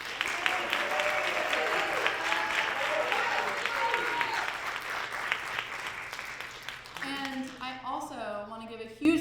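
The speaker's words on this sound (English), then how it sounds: "So let's give a quick round of applause to Shane and Melinda" Audience applause at a Best Buddies ambassador showcase, a dense, steady wash of clapping that fills most of the stretch, then thins and gives way to voices talking near the end.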